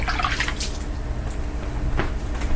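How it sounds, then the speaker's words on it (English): Water trickles and drips as hands are rinsed at a kitchen sink, a soft continuous splashing with a few brief louder spatters. "I'm going to set this over here and rinse my hands off."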